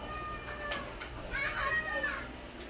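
A cat meows a couple of times, drawn-out and plaintive, over a low background hum, close by.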